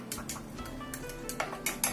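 A spoon stirs a milk mixture in a bowl for a sweet snack dough, giving light scattered clinks and scrapes against the bowl at close range.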